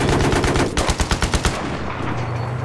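Rapid automatic gunfire in a video game rattles out in a loud, close burst of evenly spaced shots lasting about a second and a half, then cuts off into a low lingering rumble.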